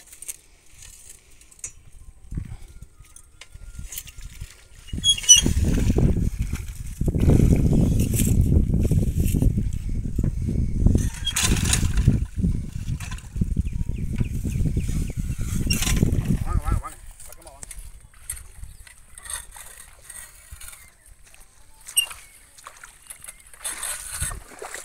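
A paddy field weeding machine fitted with a 10-inch seeder, in Melur near Madurai, is driven through a wet rice field, giving a loud rumbling, churning run of roughly twelve seconds before it drops away to quieter surroundings.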